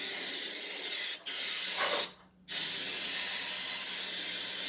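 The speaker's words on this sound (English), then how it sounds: "And you just spray it very liberally" Nonstick cooking spray hisses onto a bundt pan in long, steady, close bursts, with one brief pause and then a longer gap before the spraying resumes.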